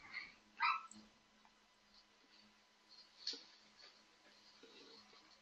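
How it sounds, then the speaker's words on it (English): A dog yelps in a house a short way off, with a couple of sharp high yips early on followed by fainter whimpering cries spread across a quiet room. "I hear my dog yelping."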